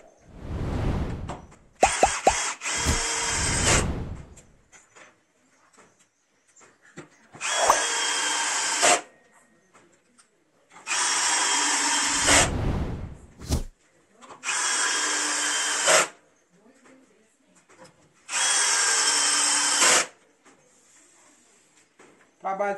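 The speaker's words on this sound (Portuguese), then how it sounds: "Vamos colocar os parafusos aí rapidinho e finalizar." A power drill drives screws into a thick solid wood plank, making four distinct whirring bursts of a few seconds each with quiet pauses, plus earlier shorter handling bangs and a brief burst; fairly close and loud, no talk during the drilling.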